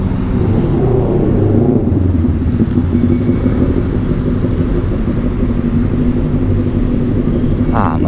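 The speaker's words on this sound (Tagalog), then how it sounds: "Mas ang tunog ng motor na sir." A steady low engine rumble runs throughout from a Honda Raider 150 FI motorcycle idling or cruising nearby, loud and continuous with no speech.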